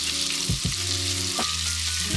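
Onions and garlic sauté in melted butter in a pot, a steady close sizzle with a few scraping stirs and tonal clinks from the pot, and no talking.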